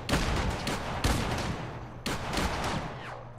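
Shotgun blasts in the Fallout game with the Horizon mod: three loud, booming shots roughly a second apart, each followed by a long rumbling decay, with no talking.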